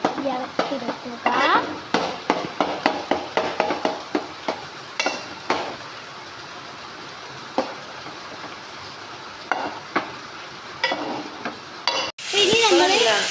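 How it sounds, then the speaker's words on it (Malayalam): Onions and tomatoes for a fish curry are stirred in a pan with a quick run of rhythmic spoon scrapes and clatters over a soft sizzle, slowing to sparser strokes before a louder clattering burst at the end. "ഉള്ളിയും തക്കാളിയൊക്കെ ഇതാക്കി നമുക്ക് നന്നാക്കി ഇളക്കിയെടുക്കുക"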